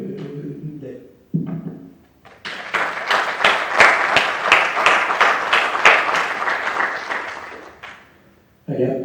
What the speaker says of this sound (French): je veux juste remercier et applaudir nos équipes de Microsoft